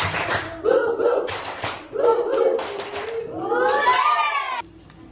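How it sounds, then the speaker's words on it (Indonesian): A school class claps a quick patterned spirit clap, several bursts of sharp hand claps mixed with children's shouting voices, fairly close and loud. "Coba tepuk semangat."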